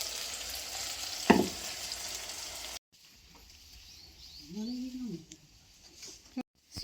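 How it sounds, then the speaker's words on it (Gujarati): Spices tempered in hot oil give a loud, close sizzling hiss for about three seconds, followed by a quieter stretch with a brief voice. "હાલો તેલમાં વઘાર લીધું"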